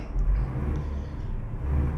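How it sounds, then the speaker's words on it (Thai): A low, steady engine rumble idles throughout, a bus engine in Euro Truck Simulator 2 running with no voices over it. "สตาร์ทเครื่องก่อน"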